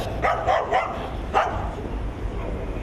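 A few stray dog barks in quick succession, then another bark a moment later, over a noisy outdoor street background with traffic-like rumble.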